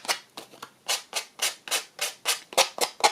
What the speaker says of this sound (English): a little sanding block here,